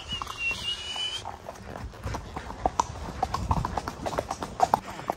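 Horse hooves clip-clop on a bridge while riding in the rain, with irregular close hoof strikes over soft background noise.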